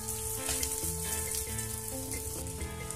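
Masala okra frying on a flat iron tawa, a constant close sizzle with faint tonal music playing in the background and no talking.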